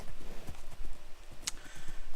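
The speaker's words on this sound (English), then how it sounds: "So many horses." Minecraft horses clip-clopping in the video game, a run of hoof clops in quick uneven rhythm at moderate loudness with no talking over them.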